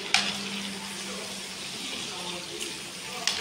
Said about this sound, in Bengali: এটা হচ্ছে বিনস ভাজা চলছে।